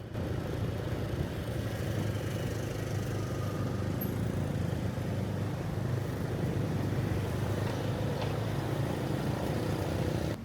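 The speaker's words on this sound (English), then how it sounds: "Motorbikes travel very close to one another, cars move behind them, people constantly change direction, and you can hear horns everywhere." Busy Vietnamese street traffic gives a steady dense roar of motorbike and car engines close by, with no clear horn blasts and no pause.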